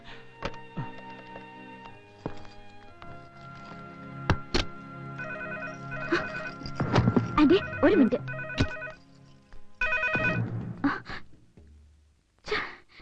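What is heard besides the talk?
telephone ringing in a film scene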